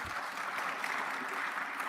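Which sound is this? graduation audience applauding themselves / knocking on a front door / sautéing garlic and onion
graduation audience applauding themselves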